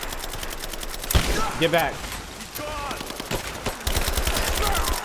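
Bursts of rapid gunfire in the video game Rise of the Tomb Raider crackle back to back, close and loud, while a voice briefly shouts over the shooting.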